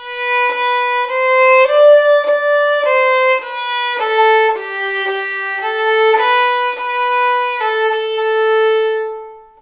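A single violin close by plays Ode to Joy with an altered rhythm in the first ending, about a dozen distinct bowed notes in even steps, one longer held tone, bright and full, unaccompanied and without speech.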